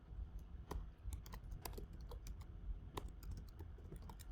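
Typing on a Mac computer keyboard: a quick, irregular run of light key clicks and taps, close and fairly quiet, with no talking.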